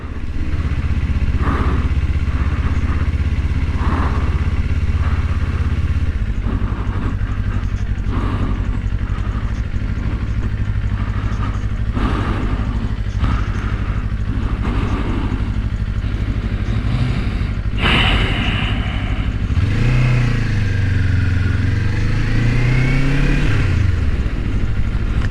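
A 2024 Kawasaki Ninja 500 rides through Miami traffic while filtering forward, a loud constant engine drone with wind rush, and near the end the revs rise and fall.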